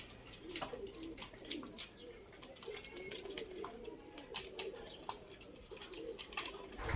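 A gathered flock of domestic pigeons coos softly in low, rolling murmurs, joined by scattered sharp clicks and faint chirps, moderately close and with no talking.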